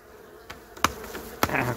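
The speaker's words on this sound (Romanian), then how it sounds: "nu sunt multe, 200 de albine acolo" Honeybees buzz at an overfull beehive being readied for winter, a close, continuous insect drone broken by two or three sharp knocks against the hive, with no talking.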